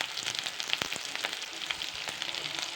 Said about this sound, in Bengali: এঁচড়ের আলু ভাজা বসিয়েছি